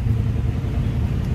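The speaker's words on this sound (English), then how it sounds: "Let's go ahead and fire this up." A 1950 Ford Tudor flathead engine with dual exhaust runs with a steady, loud low rumble throughout, close by, with no voices.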